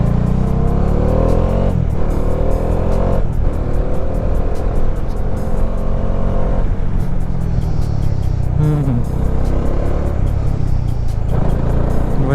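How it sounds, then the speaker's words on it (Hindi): A Bajaj Dominar 400 motorcycle is ridden with a loud, continuous engine rumble that rises and falls with throttle changes, close and steady throughout, with no talk. "एक बार सागर भाई की बाइक चला के देखते हैं"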